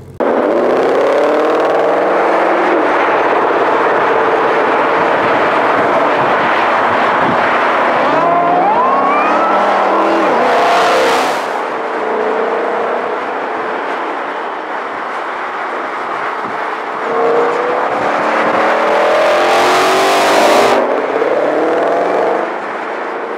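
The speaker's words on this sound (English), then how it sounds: "take a closer look at the 2020 Ford Shelby GT500, let's take a listen to what it sounds like" Loud 2020 Ford Shelby Mustang GT500 engine roaring and revving with rising and falling pitch sweeps, punctuated by a couple of sharp bursts, continuous and close throughout.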